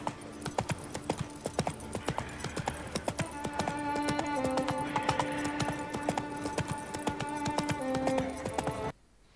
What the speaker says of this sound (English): I presume we're going to be having several different horses, because this is a different coloured horse